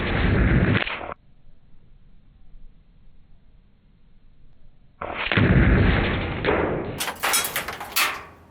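A Diana Outlaw .25 caliber air rifle fires at a target, giving two loud sharp bursts separated by a quiet stretch, the second followed by a cluster of crisp high-pitched cracks and rattles close by.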